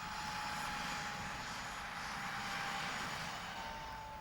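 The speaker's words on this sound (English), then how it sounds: "An army helicopter helps out on the civilian front." A steady, droning army helicopter engine hums continuously at moderate loudness, with no voices, passing at some distance over Port Stanley in the Falkland Islands.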